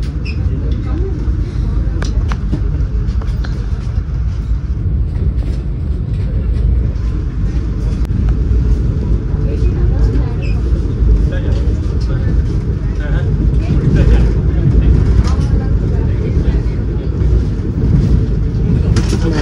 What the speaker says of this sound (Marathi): ते डिपार्चर झालेलं आहे आपल्या ट्रेनचं